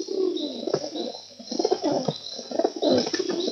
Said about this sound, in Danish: se duerne deroppe på taget